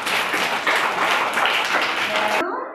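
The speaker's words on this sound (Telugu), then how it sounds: "అందరూ కింద క్లాప్స్ కొట్టండి" Small children clapping together in a classroom, a brisk, loud burst of hand claps that stops abruptly, with a voice mixed in.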